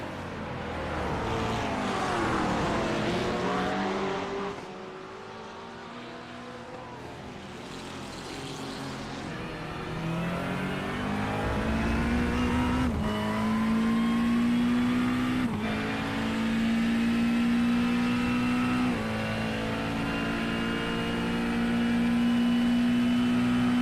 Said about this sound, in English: Driver running the McLaren 720S here today.